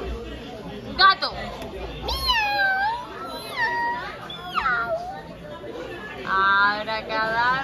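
A young girl playfully imitates a cat, giving several drawn-out sliding meows one after another amid children's chatter and laughter, close and fairly loud.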